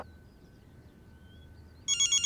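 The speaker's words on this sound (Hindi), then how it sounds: "ओ पुत्र तेरा फोन बज रहा है।" Quiet room tone, then a telephone starts ringing near the end with a rapid, repeating electronic trill.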